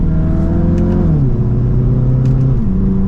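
A 2023 Audi TT 45 TFSI Quattro Roadster's turbocharged four-cylinder, set to dynamic mode, revs up loud and close, its pitch climbing then stepping down twice as the engine note shifts, with no voices over it.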